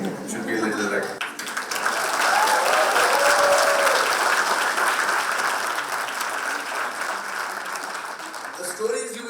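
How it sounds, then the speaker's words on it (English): An audience claps at a women's empowerment event in India, swelling into loud, dense applause after a brief opening with a voice, then holding steady and gradually thinning toward the end. "I think clapping should be not that of a 5-star hotel"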